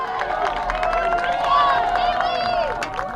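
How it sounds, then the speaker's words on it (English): At a girls' varsity soccer Adirondack League championship, the Fort Ann crowd voices its displeasure after a collision goes uncalled. Shouting and jeering voices overlap in a loud, continuous roar that swells briefly partway through. "The Fort Anne crowd not liking that."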